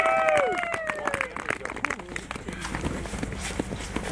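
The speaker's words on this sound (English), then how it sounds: "Let's give a round of applause for the stock A top 3." Scattered hand claps and cheers rise from an audience at a snowmobile racing circuit at Thunder Road, Vermont, a brief loose burst of applause that follows a fading voice and continues unevenly to the end.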